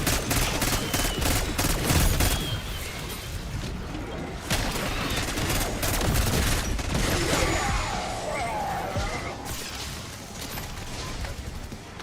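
An XM4 rifle in Black Ops 6 fires repeated three-round bursts amid dense zombie-mode combat, with steady rattling shots, loud and close, continuing across the whole stretch with no talk.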